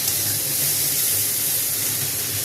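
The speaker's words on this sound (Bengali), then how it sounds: "কষানো হয়ে গেছে, এবার একটু জল দেবো" Water poured into a hot pan of okra curry cooked with mustard and poppy seed sizzles with a steady, broad hiss that stays even and close for the whole stretch.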